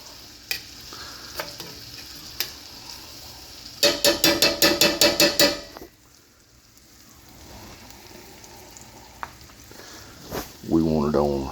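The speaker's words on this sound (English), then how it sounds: "As you can see, I'm using a metal spoon to stir" A metal spoon stirs Fiesta Chicken in a pan on fairly high heat, making a rapid run of loud clanking scrapes over a steady sizzle, and a voice speaks briefly at the end.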